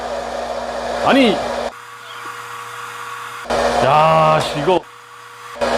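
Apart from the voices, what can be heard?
popcorn machine roasting coffee beans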